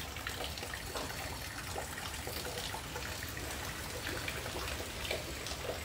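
Floodwater running through the inside of a house during a storm, a faint, steady wash of trickling and rushing water with no clear breaks.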